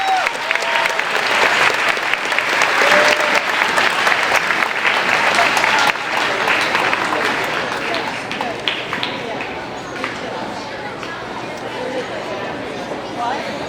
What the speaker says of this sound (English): Let's have a round of applause for Mrs.